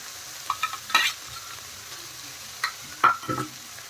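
Prawns and a prepared spice paste frying in a pan, the dish being prawns with jackfruit: a low steady sizzle broken by a few sharp scraping stirs of the spoon, close and moderately loud, with no talking.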